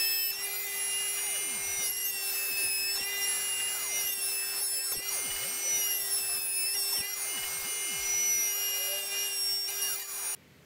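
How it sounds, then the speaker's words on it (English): A router with a 12mm straight bit cuts slots into the ends of wooden dowels held in a simple jig, a loud steady high-pitched whine running continuously with dips in load as the bit bites, then stopping abruptly at the end. "I cut the slots in the ends of the dowels with another simple jig and a 12mm straight bit in the router"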